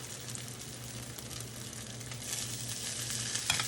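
Butter sizzling and frying in a pan, a quiet, steady crackle with small pops that grows slightly busier toward the end, heard alone without any talk.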